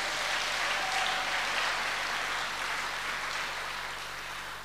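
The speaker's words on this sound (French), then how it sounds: "Acclamons le Seigneur pour ce qu'elle fait." A church congregation claps together in steady, dense applause that fills the room at an even level, easing off slightly toward the end.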